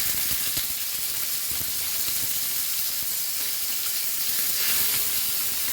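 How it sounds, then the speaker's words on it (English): Chicken wings crackle and sizzle steadily in hot oil over a medium flame, a dense continuous frying hiss with scattered pops, close and fairly loud throughout. "So once this is hot, we will fry our wings both the side."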